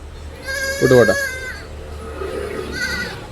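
A goat lets out a loud wavering bleat, followed by a fainter second bleat, against a quiet low hum; a mother goat and kids about 1.5 to 2 months old, for sale.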